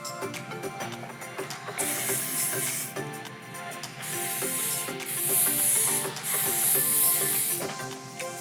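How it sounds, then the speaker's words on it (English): Repeated hissing bursts of a spray bottle spraying hair product, several sprays in quick succession close by, over soft rustling and faint background music. "So I'm gonna spray this all over"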